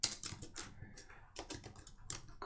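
Rapid typing on a computer keyboard during a coding session, a close, uneven patter of key clicks in short bursts with brief pauses, no voice.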